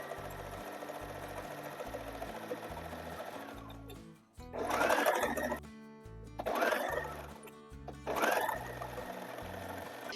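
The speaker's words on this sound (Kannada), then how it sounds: "ಸೇಮ್ ಇದನ್ನು ಅಷ್ಟೇ ಇನ್ನೊಂದು ಪಾರ್ಟನ್ನು ಪಿಕೋ ಮಾಡ್ತಿದ್ದೀನಿ." A sewing machine stitches a picot edge on a long gown, buzzing in three loud bursts separated by short pauses over a quieter mechanical hum.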